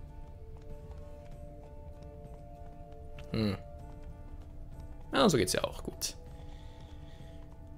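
Horse hooves clip-clopping at a gallop in The Witcher 3, heard as two short bursts of rapid hoofbeats over steady game background noise, with someone talking over the game.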